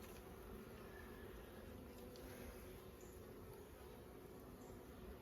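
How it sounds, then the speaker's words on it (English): Honey bees massed in a hive give a constant, close, even drone that holds steady throughout with no voices. "there's so many bees in there"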